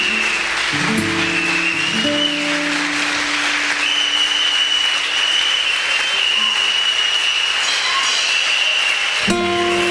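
Congregation applauding during a French-language worship service, a dense continuous wash of clapping with sustained tones and whistles over it, loud and steady until a sudden change near the end.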